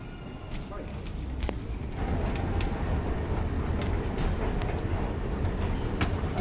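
Aboard the Haramain high-speed train running from Makkah to Madinah, a steady low rumble fills the carriage with faint clicks and knocks, while people talk over the noise.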